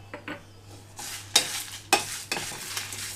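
Dry coconut, sesame seeds, red chillies and curry leaves dry-roast in a pan. A light, crackling sizzle is broken by several sharp spatula scrapes and stirs against the metal.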